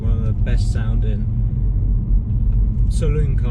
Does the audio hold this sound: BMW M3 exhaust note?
yes